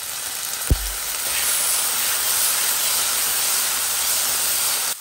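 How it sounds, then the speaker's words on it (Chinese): Chili bean paste is stir-fried with a splash of soy sauce in a hot pan, giving a loud, steady sizzle and hiss right up close that starts with a sharp tap and continues unbroken. "豆瓣酱一定要炒一下才会香， 加一点点的酱油，"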